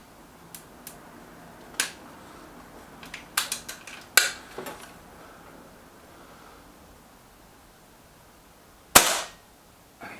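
A Reximex Accura Walnut air rifle is fired at a target, with scattered soft clicks and snaps early on and a single sharp, loud crack near the end.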